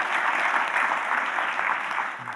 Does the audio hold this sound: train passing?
no